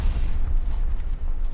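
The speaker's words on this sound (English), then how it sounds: "Is that a bomb? Oh, that was a bomb." A bomb going off in the tank battle game War Thunder lands as a heavy, sustained low rumble with crackling debris texture, loud and close, lasting about a second and a half without any talk.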